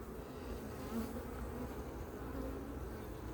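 A swarm of honeybees drones steadily around their hive at dusk, growing agitated, a dense continuous buzz held close and even throughout with no voices.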